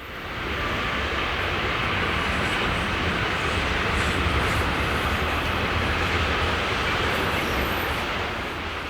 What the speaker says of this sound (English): An Austrian cargo Vectron comes off the single track line from Schwienfurt.